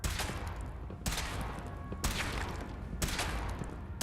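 A heavy weapon fires in Fallout 4, sustained roaring bursts broken by brief pauses roughly once per second, loud and dense throughout.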